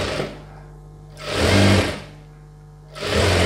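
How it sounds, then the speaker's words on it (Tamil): A sewing machine stitching a chudidhar top runs in two loud, close whirring bursts with quiet pauses before and between them, and nobody speaks. "1/2 இன்ச் வந்து எண்ட் வரைக்கும் நம்ம 1/2 இன்ச் அப்படியே ஸ்டிச் பண்ணிடலாம்."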